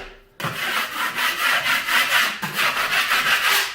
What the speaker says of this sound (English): now that it's dry, you just want to scrape it a little bit